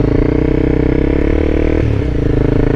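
A motorcycle rides along the road just ahead, its engine droning steadily and loud throughout with a brief shift in pitch near the end, as from the following rider's own machine close by.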